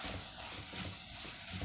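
Chopped onions, along with garlic and shallots, sizzle in a pan of hot oil as the base for a village-style fish curry, giving a soft, steady frying hiss with faint stirring and no talking.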